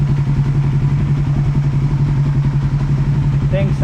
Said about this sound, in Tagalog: painiton ko na to ang makina. Mga 15 minutes, 10 to 15 minutes.